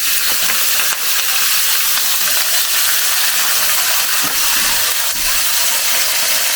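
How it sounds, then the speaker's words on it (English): Chopped onion sizzling and frying steadily in a hot pan for a chicken curry, a continuous dense hiss with occasional small stirring clicks, close and loud, no talking. "And now I'm going to add the onion and let that cook for about 8 to 10 minutes."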